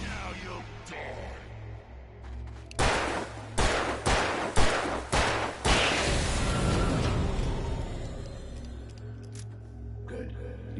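Gunshots in the video game Alan Wake Remastered, a rapid run of several loud sharp bangs in the middle, set against a low droning game ambience.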